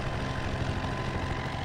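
A helicopter flies in Farming Simulator 17 on an Oklahoma USA map. It makes a steady, even engine drone with a low rumble that carries on without a break for the whole short stretch. No one speaks.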